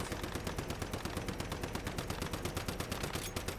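Rifle fire in the survival shooter Once Human while fighting a Monolith boss, a rapid, unbroken stream of evenly spaced automatic shots, fairly quiet and steady from start to finish.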